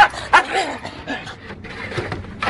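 A dog barks and yips amid a noisy, busy background with voices and chatter around it.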